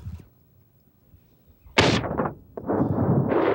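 Loud shotgun blasts at an outdoor clay target shooting range: a faint early pop, then two sharp nearby reports about a second apart, each followed by a rolling echo tail.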